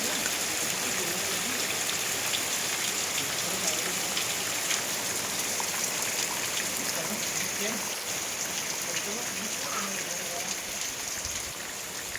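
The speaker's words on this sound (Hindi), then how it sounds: "अभी 2 मिनट हुए हैं और सामने आप देख रहे हैं शदीद बारिश" Heavy rain pours down steadily at a house, a dense, even hiss and patter of water on surfaces that holds unbroken throughout.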